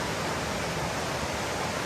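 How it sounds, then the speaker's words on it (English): A river with waterfalls runs beside a campsite on a hiking trail, a steady, dense broadband rush of falling water, fairly close and unbroken, with no voices. "a view of the river and some waterfalls"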